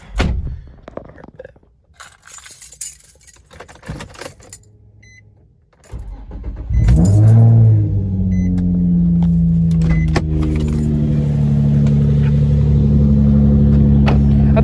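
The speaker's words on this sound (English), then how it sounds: "Let's get this cold start for y'all." Cold start of a Nissan 350Z/G35 engine fitted with a plenum spacer and 75mm throttle body spacer: keys and clicks, a starter crank, then the engine catches with a loud flare and settles into a steady, deep idle.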